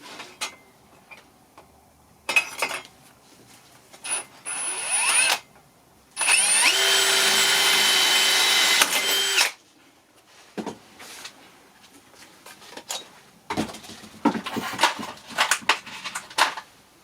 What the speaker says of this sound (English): now we can drill the second hole